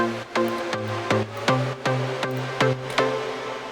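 A repeating synth-like chord plays in short, evenly spaced hits, each with a brief, tight reverb tail that fades quickly.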